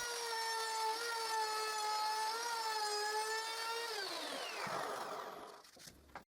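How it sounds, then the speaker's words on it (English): A router whines steadily and close as it cuts a groove into wooden planks, a sustained high tone that dips slightly, then drops away and trails off as the tool spins down near the end. "I root a groove in both planks."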